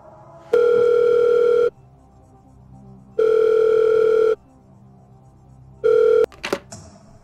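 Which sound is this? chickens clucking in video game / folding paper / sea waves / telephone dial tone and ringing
telephone dial tone and ringing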